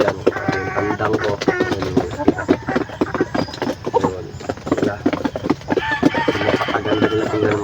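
Roosters crow amid busy clucking and clatter from a flock, with crowing rising twice over a noisy farmyard background.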